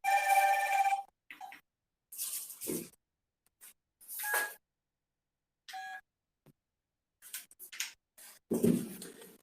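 A telephone rings in short bursts separated by silences, with brief faint noises between the rings and no speech.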